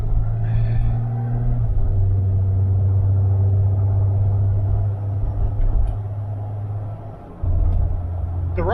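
A 2001 Jeep TJ Sport driving, its engine a steady low rumble heard from inside the cab, with a brief drop and surge in engine note near the end.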